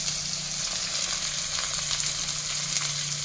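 Onion frying in hot oil with a little salt, a steady close sizzle with soft crackling spits, even in level and heard alone.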